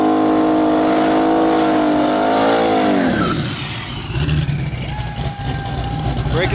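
Turbo Mustang drag race car with a 427 engine, loud and close, revving hard with rising pitch for about three seconds before cutting off into rough, lower engine rumble, with people talking over it.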